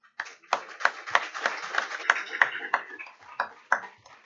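A scattered round of applause at a McDowell County Schools Board of Education meeting: a handful of distinct, uneven claps from a small audience in a quiet room, fairly faint.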